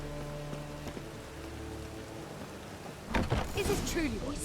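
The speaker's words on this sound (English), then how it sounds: "And it's raining again." Steady rain patters softly in the background in the video game The Witcher 3: Wild Hunt, with a brief burst of louder knocking and splashing near the end.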